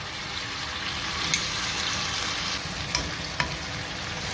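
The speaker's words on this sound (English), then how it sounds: "We are going to let it sizzle for a few minutes." Close, steady sizzling of chili garlic and barbecue sauce frying in a pan, with a few sharp clicks and scrapes of stirring.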